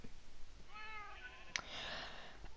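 A Minecraft cat lets out a single drawn-out meow, fairly quiet against a hissy game background, followed by a brief click.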